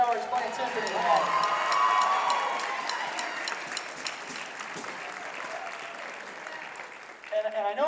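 An audience at a school spring concert applauds the timpani player Mr. Keller, a loud swell of clapping and some cheering that slowly fades over several seconds.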